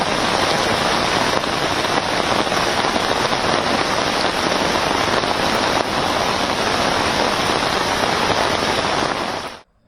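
Heavy monsoon rain pours down steadily in Uttar Pradesh, a dense, loud, unbroken hiss of drops hitting surfaces close by, lasting the whole stretch with no voices before cutting off abruptly at the end.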